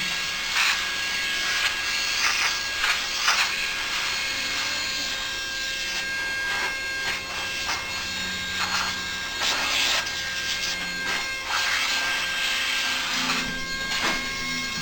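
Air blower clearing dust out of an old heater gives a steady, loud hissing rush of air, with a few bursts and shifts in pitch as the nozzle moves around the unit.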